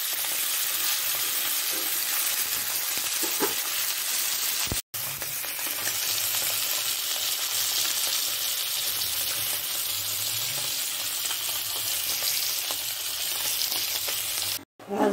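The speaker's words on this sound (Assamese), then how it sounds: "মাছকেইটা ভাজি আছোঁ আৰু।" Fish frying in a pan, a continuous loud sizzle and crackle of hot oil with two brief cut-outs, and no talking over it.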